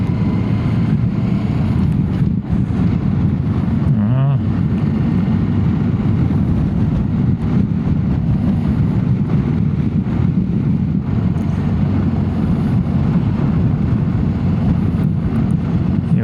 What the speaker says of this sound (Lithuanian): Vėjas šiandien smarkus.